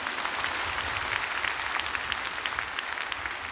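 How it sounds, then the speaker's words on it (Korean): Church congregation applauds at a dawn revival service in a dense, continuous roar of clapping that fills the whole moment. "이때 박수를 한 번 쳐줘야지."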